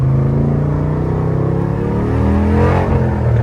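A 1961 Corvette resto-mod with a 525-horsepower LS3 V8 revving, a loud, deep, steady engine rumble that swells slightly toward the end, with no talking.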